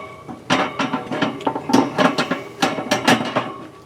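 Metal fire grate pieces clank and rattle as they are set and hinged into place inside a smoker, a run of sharp, close metallic knocks and scrapes in uneven bursts.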